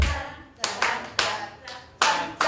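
Group in a 7080 singing class claps hands together in a rhythmic pattern, sharp collective bursts spaced unevenly like a short counted beat, close and fairly loud with no talking.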